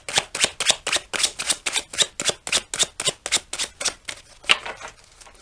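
Tarot cards being shuffled and pulled, giving a rapid run of crisp, close riffling snaps in a steady rhythm that slows and thins out near the end.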